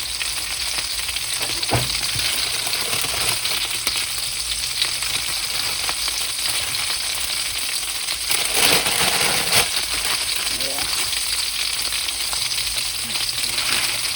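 Bang bang chicken tenders frying in hot oil in a pan: a steady, loud, close sizzle running the whole time, with occasional soft knocks and crackles.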